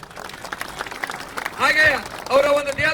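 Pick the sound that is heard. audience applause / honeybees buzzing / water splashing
audience applause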